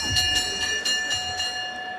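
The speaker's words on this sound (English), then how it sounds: "Go ahead, ring that bell." A ringside bell at a boxing event is struck repeatedly in a quick, even series of about seven bright metallic dings, each ringing with a sustained tone, heard fairly close against a murmuring arena.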